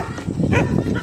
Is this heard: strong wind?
no